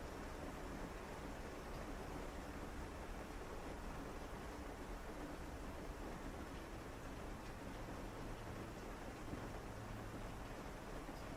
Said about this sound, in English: the sound of the rain,